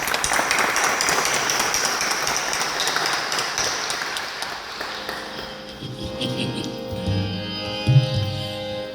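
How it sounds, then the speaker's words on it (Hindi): A congregation at a Hindi/Urdu Christian worship service claps steadily for Naveed, a dense wash of applause that fades after about five seconds into quieter room sound with a few low thumps. "नवीद भाई के लिए हक बनता है कि ताली बजाई जाए।"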